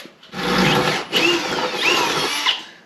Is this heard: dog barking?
no